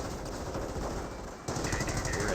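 Rifle fire from a G43 squad in the World War II strategy game Company of Heroes, a dense, steady rattle of rapid shots running the whole time, getting a little louder toward the end.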